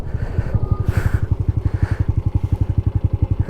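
Yamaha MX-50 two-stroke motorcycle ridden close by, its engine pulsing in a steady rapid rhythm with loud, even firing throughout and slight changes in pitch as it runs.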